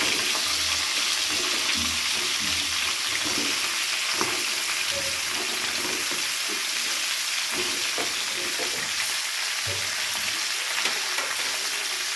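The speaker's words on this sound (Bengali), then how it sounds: "এবারে পটলটাকে ভেজে নিতে হবে আমাদের।" Pointed gourd (potol) frying in oil in a pan, a steady close sizzle with occasional stirring clatter, no voices.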